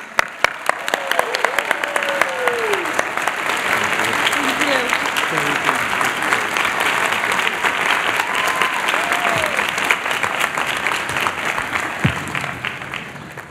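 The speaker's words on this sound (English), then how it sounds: "Please join us in a warm round of applause for Dean Feaster." A large audience at a Harvard University Class Day ceremony gives a sustained round of applause for Dean Feaster, dense steady clapping filling the hall with a few voices faintly mixed in.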